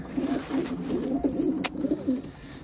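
Pigeons coo in a loft, a steady stream of soft, throaty rolling calls repeating across the whole stretch at close range, with one brief sharp knock partway through and no talking.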